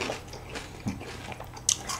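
A crunchy snack is bitten and chewed close to the microphone, producing a run of crisp crackling crunches and moist mouth sounds with one sharper bite near the end.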